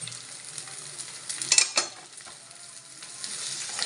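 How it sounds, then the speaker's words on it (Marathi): Green chilies frying in oil in a kadhai, a close, bright sizzle that swells briefly with a few metallic stirring clinks before settling back into a steady hiss, with no one talking. "हे गेल्या कढईत मिरच्या"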